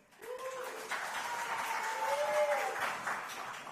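Audience applause at an Entente Florale Europe announcement of participating towns, steady clapping filling the whole stretch at moderate level, with a voice faintly heard over it.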